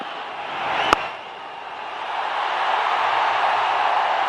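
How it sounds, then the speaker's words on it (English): Cricket stadium crowd roaring as the hometown hero brings up a World Cup century in a semi-final run chase, a broad, steady wash of distant cheering that swells gradually after a sharp single crack. "Listen to the crowd as the hometown hero brings up a World Cup century"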